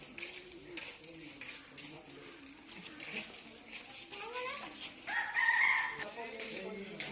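A pheasant calls at Bannerghatta zoo in Bengaluru, giving a few harsh crowing, rooster-like cries over busy outdoor background murmur, with the loudest call near the end.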